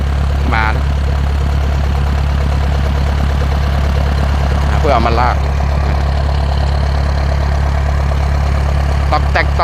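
A rare-model farm engine, a walking tractor-type machine, runs steadily with a constant low drone close by throughout, with a few brief voice-like bursts on top.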